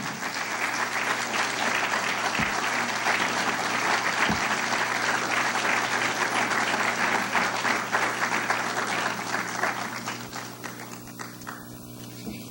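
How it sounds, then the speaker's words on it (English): An audience at a talk on African history applauds students as they come forward, a steady, sustained round of clapping filling the hall from start to finish, with a couple of sharper taps cutting through. "Please give them a round of applause"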